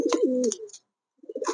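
A white Lakha pigeon coos softly, a short rolling coo followed by a brief pause and another quieter coo, close and alone.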